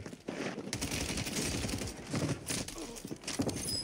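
Rapid bursts of Kastov 762 gunfire in Call of Duty: Warzone crackle in quick succession, dense and sharp, over a busy background of game noise.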